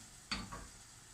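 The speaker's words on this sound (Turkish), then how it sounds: "Soğanlarımız kavruluyor." Onions sauté in butter in a pan, a soft sizzle with a sharp stirring scrape and a second quieter stir, close and fairly faint, with no talk.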